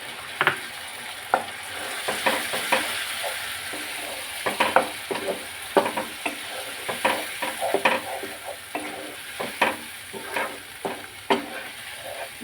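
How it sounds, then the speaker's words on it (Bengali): A spice paste of ginger-garlic, tomato, Kashmiri chilli powder, red chilli powder, turmeric and salt sizzles steadily in a pan, with repeated close scraping stirs scattered over the frying hiss. "এবার এই মশলাটাকে আমি কষাবো যতক্ষণ না মশলা থেকে তেল ছাড়ে"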